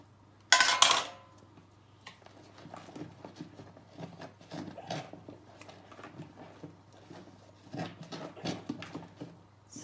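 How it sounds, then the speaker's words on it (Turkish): Dishes and glasses being washed by hand at a kitchen sink, with scattered clinks of crockery and cutlery and a steady trickle of water, following an early loud splash or clatter. "Hem sizinle birlikte böyle bulaşık yıkarız"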